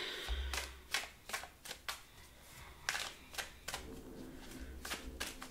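Tarot cards are shuffled in a series of quick, crisp riffling bursts, each a short papery flutter repeated at irregular intervals, close and fairly quiet.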